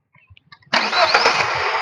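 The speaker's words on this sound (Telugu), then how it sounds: "బండి అయితే సింగిల్ సెల్ఫ్ లో స్టార్ట్ అయిందండి." A 2024 Hyundai Venue petrol car engine cranks and fires up on a single starter attempt, jumping abruptly from near-silence to a loud, steady, close idle after a few faint clicks.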